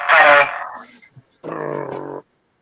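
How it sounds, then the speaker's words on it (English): Two short, weak honking bursts, buzzy and strained like an air horn running out of power, separated by a brief gap. "That's the sound of the blowhorn with no batteries."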